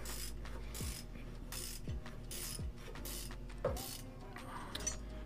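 Ratcheting clicks from a nut being tightened onto a Beast climbing stick assembly, a few sharp mechanical clicks at irregular intervals over a steady low hum, close by and fairly quiet.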